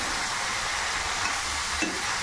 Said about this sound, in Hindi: अब मैं कुछ इस तरीका से उसे हिला लूँगी।